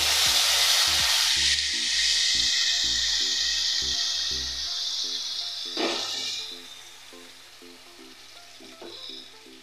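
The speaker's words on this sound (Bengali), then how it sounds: "এখানে আমি গোটা জিরা আর গোটা গরম মশলা ফোড়ন দিয়ে দিলাম, দিয়ে দিচ্ছি দুটো তেজপাতা" Cumin, whole garam masala and bay leaves temper in hot oil with a loud hiss that flares at the start and again near the middle, then eases to a softer sizzle.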